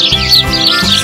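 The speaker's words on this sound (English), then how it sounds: "Sparrow." A sparrow chirps in a rapid series of high, bright tweets, close and clear, with steady low background hum and no talking.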